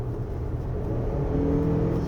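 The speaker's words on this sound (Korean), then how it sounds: "제가 지금 엑셀을 끝까지 밟은 건데" A 2024 Lexus RX450h+ plug-in hybrid pulls hard under full throttle in Eco mode, a steady low engine and motor drone with faint whine building evenly from inside the cabin, no talking.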